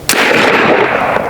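A 12 gauge AEA Zeus airgun fires a single chain shot, one sharp, loud blast near the start, followed by a long ringing decay with no voices.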